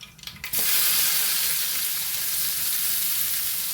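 Onions dropped into hot oil in a pan for an Andhra Rayalaseema style bitter gourd tomato curry, a brief clatter followed by a loud, steady sizzle right up close, with no talking.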